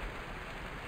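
Steady rain falls outdoors as a soft, even hiss of drops, faint and unbroken with no voices.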